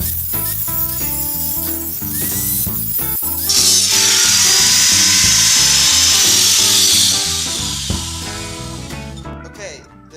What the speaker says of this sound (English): Now comes the most tedious part, to drill the holes.